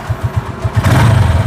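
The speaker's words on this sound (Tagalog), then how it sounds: "nakasakay na ngayon sa motor ni Jerome at tayo yung pasahero" Motorcycle engine putting along with a steady rhythmic thump, then revving up and growing louder as the bike pulls away with a passenger aboard, heard close up.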